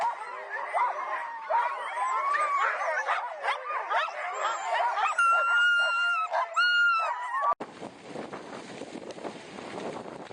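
Sled dogs bark, yip and whine excitedly in a dense, overlapping chorus outdoors, loud and close, before the sound cuts to rushing wind and movement noise.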